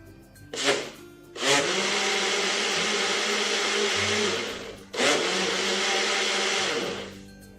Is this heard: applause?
no